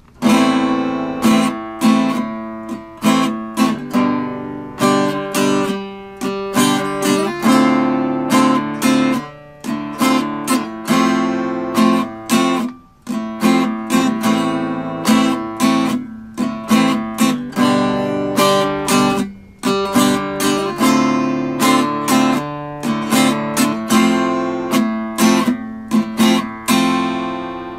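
Choppy guitar strumming in a steady reggae rhythm, short muted chord stabs repeating loudly and evenly for a long stretch with brief pauses.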